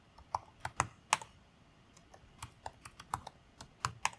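A computer keyboard typing a terminal command, with irregular clicky keystrokes in short bursts and a few pauses, close and fairly quiet.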